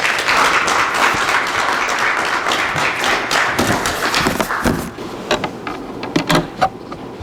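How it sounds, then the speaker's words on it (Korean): An audience at a political forum applauds to welcome a former minister to the stage. The clapping is loud and dense at first, then thins into scattered claps and taps near the end. "박수로 맞아주십시오"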